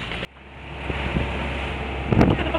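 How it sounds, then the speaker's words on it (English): A breezy day on the St. Lawrence River, with wind buffeting the microphone in steady rushes and a gust near the end, a low boat motor droning faintly underneath. "it's a breezy day on the St. Lawrence"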